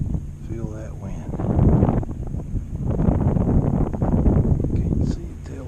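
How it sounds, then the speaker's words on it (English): Wind rushing over a heeling sailboat under sail, a steady broadband roar buffeting the microphone throughout, with a person talking briefly near the start. "Feel that wind."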